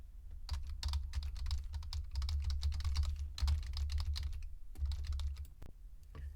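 Rapid, continuous typing on a computer keyboard in a small office cubicle, close and steady with dense irregular key clicks and a low background hum, no voices.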